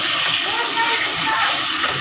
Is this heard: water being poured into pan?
yes